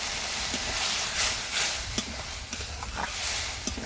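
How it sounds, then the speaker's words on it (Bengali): Spice water poured into a hot pan of fried eggs, setting off a loud, steady hiss and sizzle with faint stirring taps, heard close by and with no talking. "এবার আমি মশলার জলটা দিয়ে দিচ্ছি এর মধ্যে"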